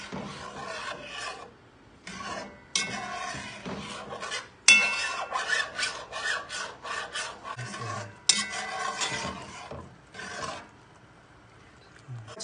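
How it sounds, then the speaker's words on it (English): A spoon scrapes and rasps across the bottom of a cooking pot while pork ribs cook, in repeated strokes with short pauses between them, close and fairly loud with no talking. "make sure you scrape the bottom of the pot so you get all those amazing flavors"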